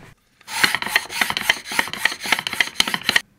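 Burrs on a mitre saw's zero clearance insert are ground down in quick, repeated rasping strokes, a dense rhythmic scraping that starts after a short pause and stays loud and close.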